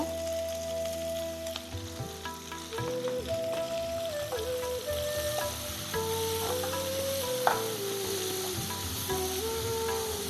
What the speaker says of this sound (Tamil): வெட்டி வச்சுருக்க வெங்காயத்தையும் சேர்த்து இப்போ நல்லா வதக்கிக்கலாங்க